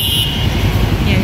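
City street traffic in Bonifacio Global City, Manila, with a steady close roar of passing cars and motorcycles and a brief horn toot near the start.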